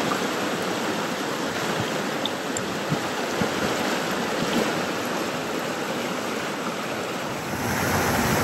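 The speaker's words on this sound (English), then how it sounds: "Hannah's Creek just churns past it." Flooded Hannah's Creek churns past in a steady, loud, unbroken rush of fast-moving water with no talking over it.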